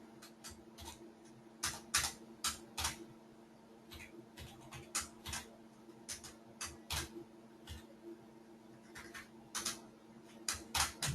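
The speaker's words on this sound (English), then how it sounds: "if you actually beat me typing" Fingers tap on a computer keyboard in irregular quick bursts and pauses, sharp close clicks over a faint steady hum, with no voices.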